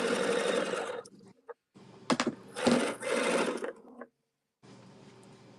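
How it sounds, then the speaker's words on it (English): A sewing machine stitches down the sides of a layered fabric fob in several close bursts of rapid whirring, separated by short pauses and a few faint clicks. "So I'm just going to do quick stitch down the sides."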